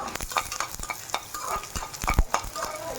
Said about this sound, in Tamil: தேவையான அளவு காஞ்ச மிளகாய், பாருங்கள், ஒரு சின்ன பீஸ் பட்டை போட்டு வறுத்துக்கலாம்